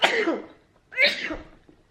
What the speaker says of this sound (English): Right in the middle of my video, you just wanna start sneezing like that?